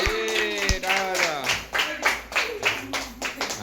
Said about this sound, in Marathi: टाळ्या वाजा टाळ्या वाजा टाळ्या वाजा